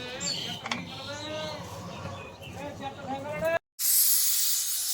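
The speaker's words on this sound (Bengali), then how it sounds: "দেখুন বন্ধুরা, 3টে সিটি মেরেছে, প্রেশারটা এবার নামিয়ে নেবো" A pressure cooker of mutton with pointed gourd lets out a loud, harsh hiss of escaping steam after a short silence, following a stretch where a person talks over fainter background hiss.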